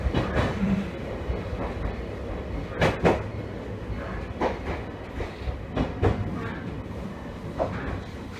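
A Ban'etsu West Line train runs on rails with a steady rumbling roll and sharp, regularly spaced clacks over the rail joints, loud and close.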